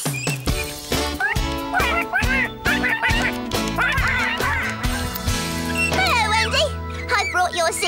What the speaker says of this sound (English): Go back, little duck. Two little ducks.